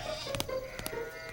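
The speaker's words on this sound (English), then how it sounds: "Hey, sheep! Go to sleep!" A cartoon sheep gives a couple of short, nasal bleats in quick succession, close and clear over a soft background.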